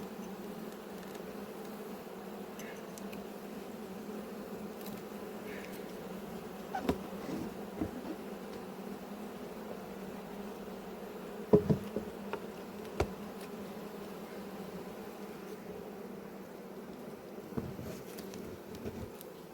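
A steady low droning roar of many bees inside a hive fills the clip, with a few brief clicks and taps rising above the continuous hum.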